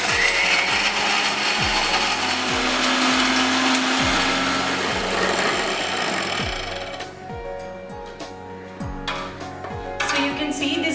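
A mixer grinder powders bourbon biscuits in a loud, continuous whirring grind with repeated rhythmic pulses, then it stops partway and some clattering follows.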